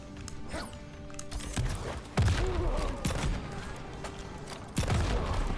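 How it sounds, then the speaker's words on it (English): RoboCop's gunshot projectile in Mortal Kombat 11 gameplay, with repeated sharp blasts and impacts in quick bursts amid fighting-game effects and background music, loud and punchy. "one of the only ways to avoid this gunshot is to jump"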